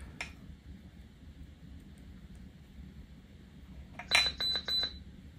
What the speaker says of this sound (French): Il y a le petit bip comme quoi que le badge a bien été lu